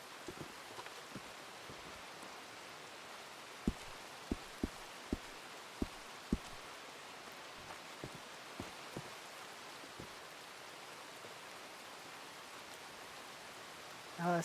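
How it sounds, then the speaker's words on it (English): In a roleplay video game, steady rain hisses with scattered raindrops tapping a surface nearby, a constant wash of noise under sharp drips. "The rain is so loud, I can't really hear you."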